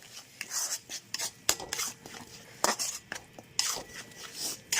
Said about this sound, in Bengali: এবার এটাও একটু ভালো করে কষিয়ে নেবো।